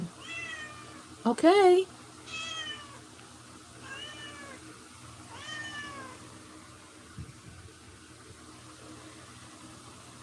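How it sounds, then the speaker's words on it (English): A cat meows loudly and repeatedly, several drawn-out rising and falling cries spaced a second or two apart over a quiet indoor hum, with a brief word spoken nearby. "She was meowing so loudly."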